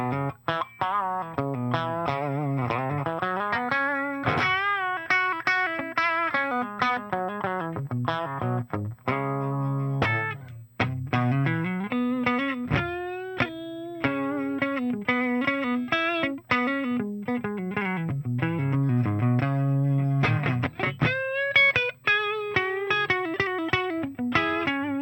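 An electric guitar plays a busy, melodic run of single notes and chords through the clean channel of a B-52 ATX100 tube amp, continuous and fairly loud, with no voices.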